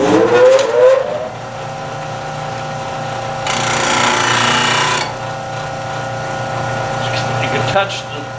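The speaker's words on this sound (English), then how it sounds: "I'm going to turn the grinder on, and I'm going to just touch this for a second" Bench grinder with its wheel running while a skew chisel tip is touched flat against it on the platform, a steady motor hum with one burst of gritty grinding in the middle, and a voice speaking over parts of it.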